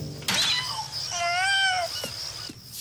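A cat meows in a long, drawn-out wail, nearby and fairly loud, with a few shorter sounds around it in a quiet room.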